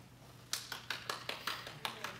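Sparse clapping from a small audience at a 2012 Lubbock County Republican convention speech, about eight or nine separate sharp claps at a steady spacing over a low hum, fairly quiet and with no one speaking.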